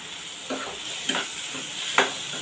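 A spoon stirs cooked chana dal and ridge gourd in a pan, giving a few soft scraping strokes over a low, continuous sizzle.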